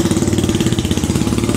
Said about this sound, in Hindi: अब ऑस्टिन रेसिंग की साउंड सुनना आप लोग कैसी है